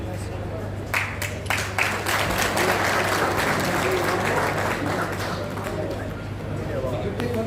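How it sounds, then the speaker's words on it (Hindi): Audience at a political event in Haryana breaks into steady applause, dense clapping filling the hall with a few sharper claps standing out, a low hum underneath, no speech over it. "ताली"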